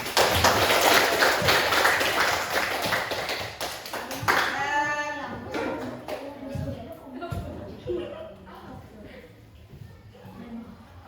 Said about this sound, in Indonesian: Oh, beri tepuk tangan sama dia.